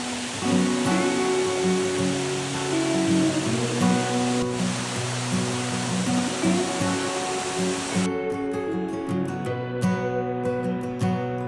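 A Tasmanian waterfall near Waratah flowing strongly, a loud, continuous rushing roar of falling water heard close by, steady throughout with no voices.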